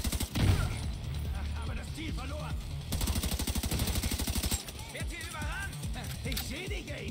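An enemy gun turret in the video game The Division 2 fires long rapid bursts, a loud steady mechanical rattle of shots running for seconds, while players talk over it in German.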